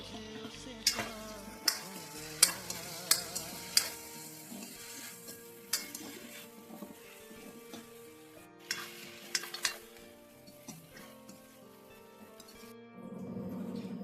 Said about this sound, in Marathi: ह्यामध्ये आपण हे बॉल्स टाकून घेऊ.